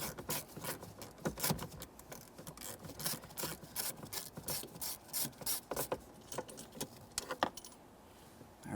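A ratchet working 6mm Allen head mounting bolts loose on the steering column of a 1994-1997 Honda Accord, a steady run of close metallic clicking and light jangling with brief pauses and no talking.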